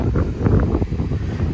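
Strong wind by the Baltic Sea at Jastrzębia Góra near Karwia on Poland's northern coast, a brief, loud, low buffeting rumble across the microphone, with no talk.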